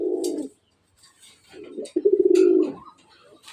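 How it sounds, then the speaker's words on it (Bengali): Caged pigeons coo loudly at close range in two rolling, throaty phrases separated by a brief pause, with faint light rustling in the background. "যতক্ষণ খাঁচায় দিয়েছি ততক্ষণই ডাকতেছে"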